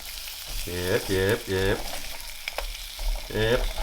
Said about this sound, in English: these onions, well, they're cooking pretty well